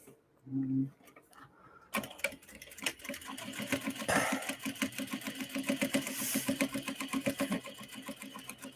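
Sewing machine stitching a leather clutch wallet: after a brief hum and pause, a steady rapid mechanical rattle of needle strokes runs close and loud to the end, with no talk over it.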